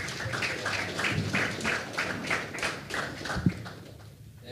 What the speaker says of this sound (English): How about a big round of applause for the